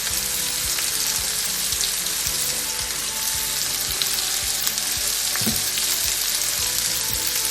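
Sliced garlic and slit green chilies sizzle steadily in a hot pan for a Kerala-style fish curry, a loud, continuous crackling fry with faint stirring clicks and no voices.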